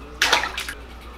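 A DUBY swim bait lure slices through water in a large shop testing tank, giving a short splashy slosh followed by a second, softer swirl, close and brief.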